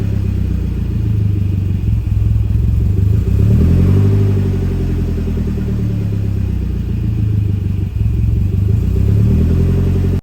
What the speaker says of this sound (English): when the engine is cold, it also has a very rough idle